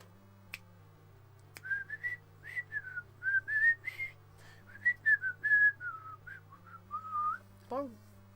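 A person whistles a melodic tune in short phrases, clear and close, with a steady low hum underneath and a single sliding whistle note near the end.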